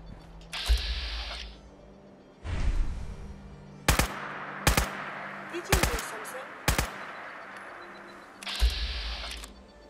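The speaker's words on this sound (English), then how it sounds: "Why am I taking pop shots at a raider?" Gunfire at a raider in Fallout 4: several sharp, loud shots ring out singly at irregular intervals, mixed with bursts of mechanical game noise.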